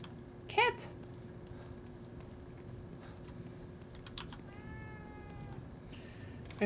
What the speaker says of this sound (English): Cat! Oh, it's so cute.